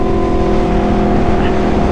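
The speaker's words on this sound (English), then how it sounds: "The character of the engine is so different" A V4 motorcycle engine roars loud and close, holding a steady, dense drone with strong harmonic tones throughout.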